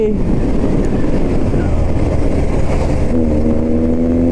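A Bajaj Pulsar NS 200 motorcycle engine, loud and close with a steady, throbbing exhaust note that shifts pitch as the throttle is blipped, ending in a rising rev.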